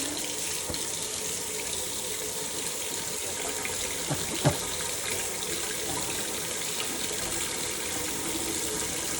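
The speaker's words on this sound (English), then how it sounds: "make sure that the water is running," Water runs steadily from a tap with hot and cold both on, a constant loud rushing splash with no pauses.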